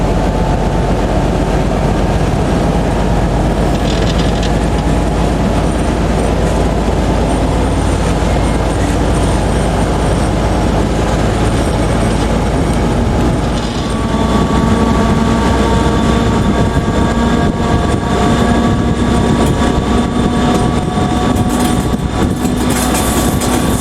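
Passenger train locomotive heard from inside the cab on a line out of Chiev to Honice, a steady loud engine drone and rumble with tonal whines running throughout and a slight shift in texture partway through.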